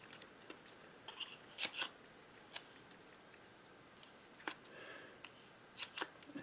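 Scissors snip paper for handmade stamped cards: a few crisp, scattered cuts close by, sharp short bursts with pauses between them.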